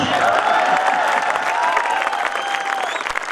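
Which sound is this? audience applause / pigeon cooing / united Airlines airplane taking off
audience applause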